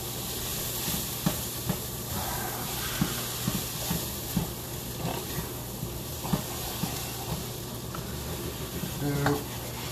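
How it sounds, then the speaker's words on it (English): Tomato paste sizzling in a pot as a utensil steadily scrapes the bottom, a constant frying hiss broken by repeated soft scraping strokes, close and moderately loud, with no talk. "Got the tomato paste in here. Steady scraping the bottom of the pot."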